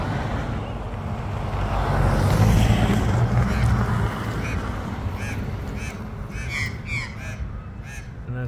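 Magpie parents circling over an injured chick give harsh, repeated calls that grow clearer toward the end, over steady wind rumble and a passing road wash.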